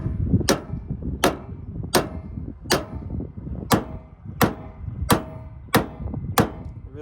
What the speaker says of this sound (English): Really just bouncing the weight of the hammer off